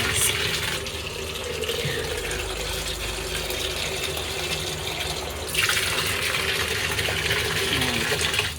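Water pours steadily from a tap into a container to be heated for coffee, a continuous splashing rush that carries on throughout and grows slightly brighter partway through.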